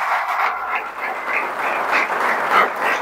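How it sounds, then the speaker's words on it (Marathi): An audience at a lecture claps together in a steady, fairly loud wave of applause lasting a few seconds, with no speech over it. "सगळ्यांनी जोरदार टाळ्या वाजवा"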